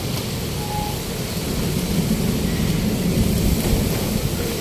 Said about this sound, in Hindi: हुण बाद जड़ा ना बड़ा तेज झक्खड़ चल रहा